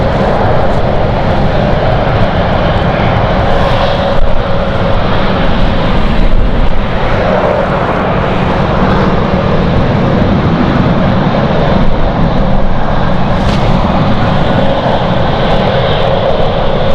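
A KLM airliner's engines run at London City Airport, a loud continuous roar close by and holding steady throughout with no talk.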